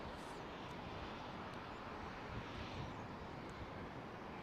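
A freighter aircraft in special livery at London Heathrow runway 09R, heard as a steady, dense engine roar with a wind-like rush that stays loud and even throughout.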